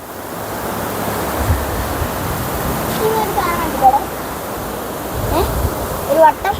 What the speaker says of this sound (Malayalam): പുഴ നല്ല നിറഞ്ഞൊഴുകയാണ് ഇപ്പോൾ നല്ല മഴയല്ലേ